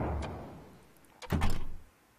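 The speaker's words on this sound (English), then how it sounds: "Oh, door's open." A door opens in the video game Ib: a soft knock early on, then a heavy thunk with a rattling, sliding swell that fades over about half a second, fairly close and alone.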